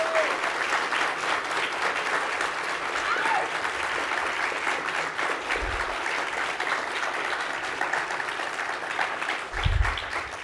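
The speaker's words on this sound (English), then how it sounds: "if we could give them a round of applause." An audience applauds steadily for about ten seconds, a dense, continuous clapping that stays at an even level throughout.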